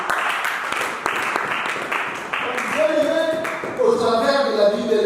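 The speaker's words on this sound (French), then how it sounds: "Est-ce qu'on peut applaudir pour notre Dieu?" A congregation applauds in a church, a dense patter of many hands clapping that swells and continues while voices and music rise beneath it.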